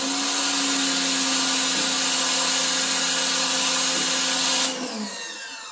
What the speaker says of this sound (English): I'm going to demonstrate to you how the regular nozzle is.